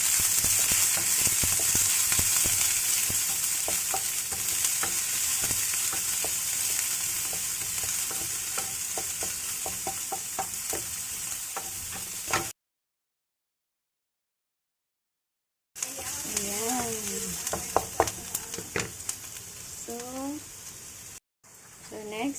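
Onions and ginger sauté in a hot pan, a continuous loud sizzle with occasional stirring scrapes, broken by a gap of silence, then more frying with brief clanks and a muffled voice.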